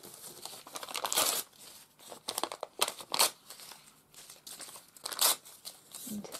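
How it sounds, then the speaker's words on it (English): Old recycled material is ripped up into small pieces by hand for a divider, giving a series of close, papery tearing and crinkling bursts at an uneven rhythm, fairly quiet with no talking. "I'm just going to rip this up."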